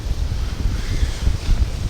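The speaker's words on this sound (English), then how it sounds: "I think it's just too windy." Low, gusty rumble of strong wind outdoors buffeting the microphone, continuous and fluctuating, with no other sounds standing out.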